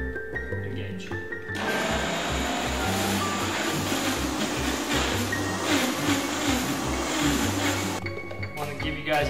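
A food processor whirs as it blends cheese into a creamy, chunky mix for dehydrated kale chips. The loud, buzzing motor starts after a short quiet lead-in and runs steadily for several seconds before cutting off.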